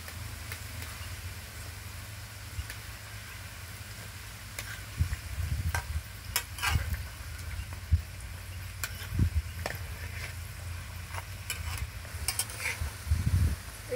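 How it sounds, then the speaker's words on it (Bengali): Mini Mughlai parathas frying in mustard oil, a low steady sizzle under scattered clinks and scrapes of a utensil as the pieces are turned one by one. "এখানে আমি সর্ষের তেলে ভেজে নিচ্ছি"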